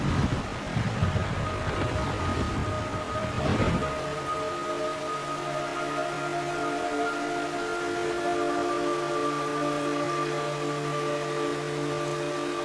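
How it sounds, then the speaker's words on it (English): Rain falls in the Metal Gear Solid 3 Snake Eater video game, a steady hiss of heavy rainfall with gusty wind noise. A louder burst fades after a few seconds, leaving a sustained tonal hum under the rain. "It's raining blood."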